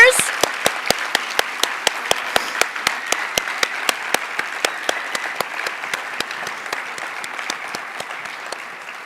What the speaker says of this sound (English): let's have another round of applause for all of our winners